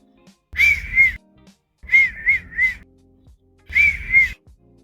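A person whistles with the lips in three short bursts of two or three steady notes each, close and clear, with quiet pauses between.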